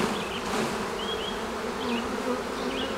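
Honeybees buzzing around a hive as a brood frame is shaken during a colony split and merge, a steady close swarm hum with higher wingbeat whines drifting through, no talk.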